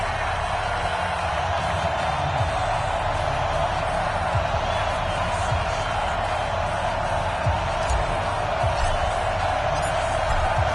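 Stadium crowd noise in a PS4 football video game at M&T Bank Stadium in Baltimore, Ravens against Buccaneers, a steady loud roar of cheering that runs the whole time, with game commentary faintly underneath.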